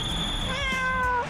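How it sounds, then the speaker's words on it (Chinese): A cat gives a single drawn-out, rising-then-falling meow lasting about a second, close and clear with no talking over it. "喵喵，我选择你。"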